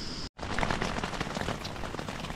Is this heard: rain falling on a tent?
yes